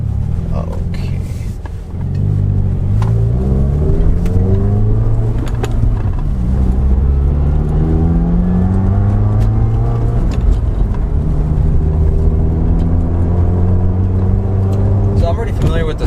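A 2017 Subaru WRX with a steering dampener and shift bushing installed drives on twisty roads, its engine droning steadily and rising and falling in pitch through gear changes, with someone talking over it throughout.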